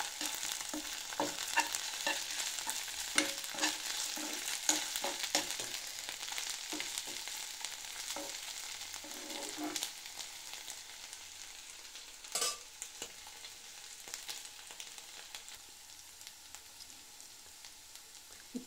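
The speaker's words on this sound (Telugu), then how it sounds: "కొంచెం అల్లం వెల్లుల్లి పేస్ట్, వేసుకొని ఇది కూడా కొంచెం పచ్చివాసన పోయే వరకు ఫ్రై చేసుకోండి" Vegetables with ginger garlic paste sizzle and fry in a pan for fried rice, a steady close hiss broken by scattered stirring scrapes and clinks, with no voices over it.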